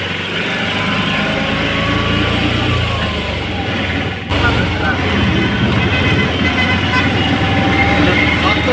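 An auto rickshaw riding through traffic near Puri station, with a constant droning engine and road noise, repeated horn toots from surrounding vehicles, and voices in the background.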